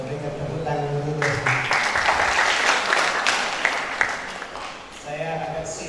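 A church congregation breaks into applause, a dense burst of clapping that swells for several seconds between stretches of amplified speech at the start and end.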